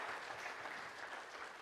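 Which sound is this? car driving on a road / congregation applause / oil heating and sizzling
congregation applause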